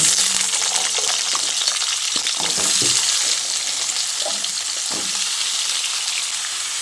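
Cut potatoes hit hot tempering oil in a pan and fry with a loud, steady sizzle, with occasional scraping and stirring clatter from a utensil.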